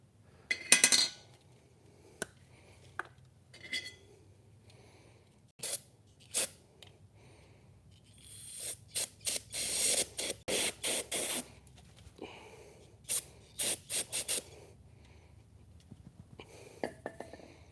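Short hissing bursts of brake cleaner spray from an aerosol can into a small valve cover, several quick sprays in a row, with light clinks and handling noises in between.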